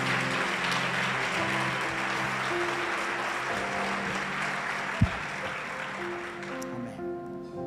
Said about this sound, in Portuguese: Quem crê nisso, aplauda ao Senhor Jesus.